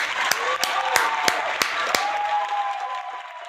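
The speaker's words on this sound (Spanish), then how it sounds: "¡Aplausos para ese sargento!" Scattered applause for a sergeant: a few sharp, distinct claps stand out over a soft, broad wash of crowd clapping that thins and fades toward the end.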